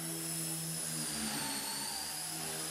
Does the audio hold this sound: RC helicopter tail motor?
yes